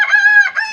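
A heritage-breed rooster crowing close by in a countryside farm setting, one short, loud, tonal call with a brief break near the end, alone without talk.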